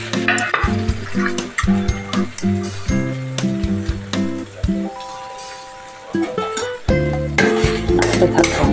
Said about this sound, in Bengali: খোসা বাটাটা দিয়ে আমি নাড়তে থাকছি